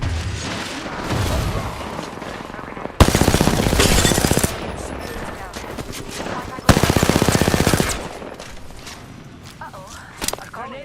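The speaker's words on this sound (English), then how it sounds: "Making contact with enemy. Recharge. Firing. Getting shot at." Automatic weapon fire in the battle royale game Apex Legends, with two loud sustained bursts of rapid shots around footsteps and lighter gunfire, plus a brief sharp shot near the end.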